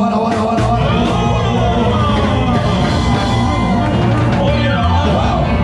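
Loud crowd at a Los Mafias show at Guantanamera, yelling, whooping and cheering continuously for Havana, with dense noise filling the whole stretch.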